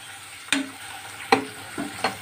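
Onion, carrot and french beans stirred in a pan, several distinct spoon scrapes and pushes at an irregular pace over a soft background sizzle, close up with no talking.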